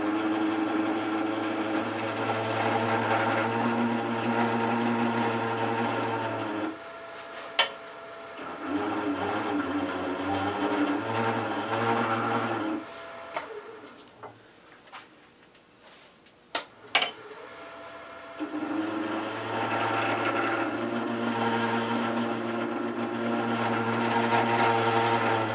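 A wood lathe turning a spurtle at about 700 rpm hums steadily while a tool is pushed straight into the spinning wood to cut an orange peel texture, with a brief quiet pause midway before the motor runs again.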